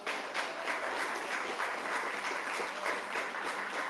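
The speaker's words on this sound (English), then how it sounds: "I'd like to give a round of applause to them as we go through" An audience applauds performers at a live show, with steady, dense clapping that holds evenly throughout with no voices over it.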